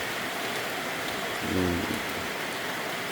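Steady rain pours down outdoors in Thailand, a dense, even hiss that stays loud for the whole stretch, with a brief low hum or voice rising underneath midway.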